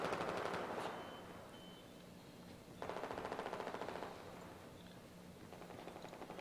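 Rapid automatic gunfire bursts from a Counter-Strike style esports match in an ESL One finals cup, with dense crackling volleys in two loud stretches and steadier shooting between, no voices heard.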